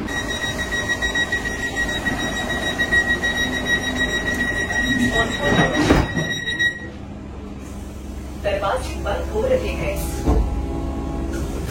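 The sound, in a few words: Vande Bharat express train arriving at Kishanganj station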